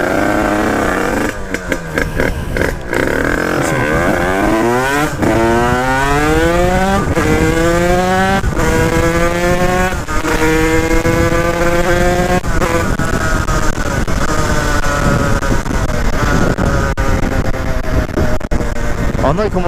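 A car drives along the road, its engine loud and close as it revs up repeatedly through the gears, each pull rising in pitch before the next shift.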